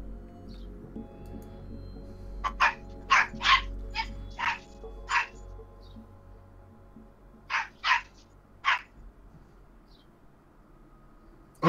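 A small, yappy dog barks outside in irregular bursts of sharp, high yaps, several close together and then a few more after a pause, moderately distant with no talk.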